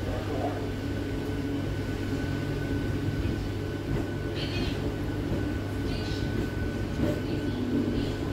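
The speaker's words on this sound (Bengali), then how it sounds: "20 মিনিটের মতন লেটে ট্রেন ঢুকলো মেদিনীপুরে।" A Howrah–Medinipur local train pulls into Medinipur station in light drizzle, its steady low rumble and rolling drone continuous and fairly near, with faint thuds and squeaks on top.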